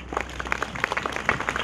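A small outdoor audience at an Indigenous Peoples' Day flag-raising ceremony claps, the applause sparse and fairly soft, with individual claps standing out.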